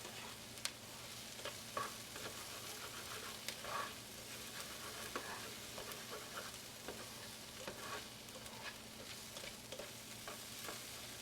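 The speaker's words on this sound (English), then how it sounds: "starting with cooking the onions will be helpful" Onions frying in a pan for an okra dish, a quiet, continuous sizzle broken by scattered stirring scrapes and clicks, close up and with no voices.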